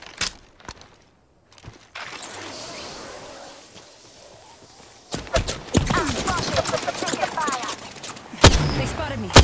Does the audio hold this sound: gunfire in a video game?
yes